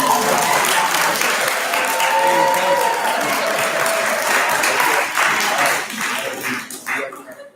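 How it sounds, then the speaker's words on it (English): Council meeting audience claps together on cue, loud dense applause sustained for several seconds before tapering off, with some voices mixed in. "On 3, everybody clap."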